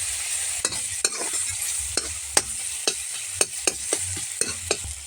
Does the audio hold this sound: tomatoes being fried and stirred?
yes